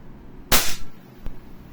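A WE Glock 18c Gen 4 airsoft pistol fires a single 0.20 g BB with a sharp, loud snap, followed by a faint click about a second later in a quiet room.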